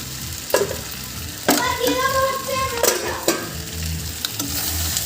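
Fried potatoes are stirred into a country-chicken curry, making a loud close sizzle with several sharp scraping strokes of a spoon against the pan and a brief rising hiss in the middle.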